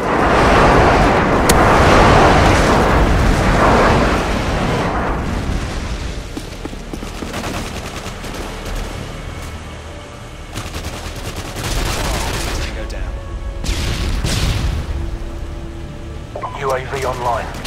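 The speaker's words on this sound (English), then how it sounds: "Friendly airstrike inbound." Airstrike explosions and heavy gunfire during a Team Deathmatch match on the Quarry map in Modern Warfare 2. They form a loud, dense barrage that is strongest early and keeps rumbling with bursts throughout, under ongoing game voices.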